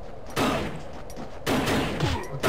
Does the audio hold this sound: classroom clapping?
no